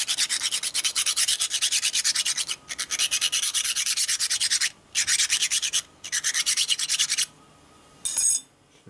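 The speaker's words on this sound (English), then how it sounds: "There's our file at. And we want to take a few burrs off of this." A hand file rasps burrs off a metal springer fork part from a 1942 Harley-Davidson WLC/WLA 45ci, close and loud, in a series of long rhythmic strokes broken by short pauses, with no talk.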